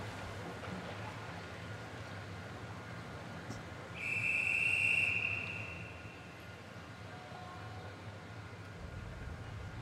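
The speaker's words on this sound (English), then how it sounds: "The whistle sounds for all quiet at the start for the women's 100 metres backstroke, S11." A single sharp whistle blown for quiet before the start of the women's 100 metres backstroke S11 at the London 2012 Paralympic Games, held for about a second over a low, steady arena hum.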